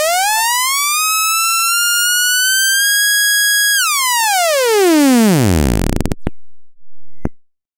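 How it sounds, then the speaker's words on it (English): An industrial Brazilian siren winds up to a steady high-pitched tone, holds it for a few seconds, then spins down through falling pitch into silence, loud and clear with a couple of brief clicks after it stops. "this siren have a very similar sound for itself, a industrial Brazilian siren"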